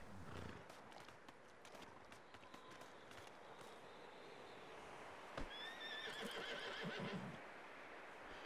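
A horse in the Red Dead Redemption 2 video game whinnies and its hooves clip-clop steadily at a quiet level, with a few short extra neighs near the end.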